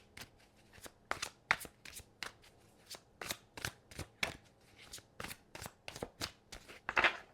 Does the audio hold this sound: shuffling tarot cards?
yes